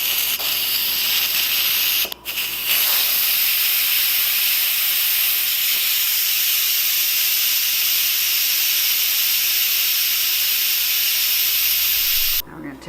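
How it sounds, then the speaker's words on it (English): Steam hissing loudly and continuously from an Instant Pot valve during a manual pressure release, a harsh close-up roar that holds steady for several seconds with a brief interruption near the start. "Now we're going to do a manual pressure release."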